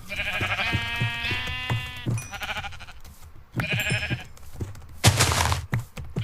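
Several sheep bleat in Minecraft, wavering blocky cries repeated in quick succession over soft thumps of game sounds, with a burst of noise near the end; no talking.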